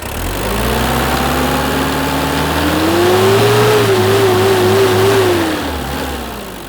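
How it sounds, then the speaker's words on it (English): A 1980 Toyota Land Cruiser BJ40 with its small B diesel engine revs up from idle, climbing and holding a steady, loud, close drone before easing back down, with no talking. "Oh yeah, the little B engine."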